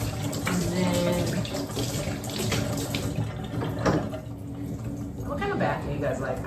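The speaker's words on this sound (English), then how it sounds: "So I usually run my bath" Water running from a tap into a bathtub, a steady splashing rush under someone talking throughout.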